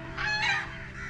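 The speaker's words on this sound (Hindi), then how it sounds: "बतख हैं और कौवे भी हैं यहाँ पर" A duck at a wildlife park gives a short nasal honking call, moderately near and alone over low background hum.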